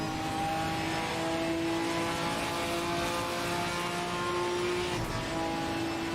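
GT4 race car engine in a racing video game at the Barcelona circuit, a continuous high-pitched drone held steady down the straight, with a brief dip near the end.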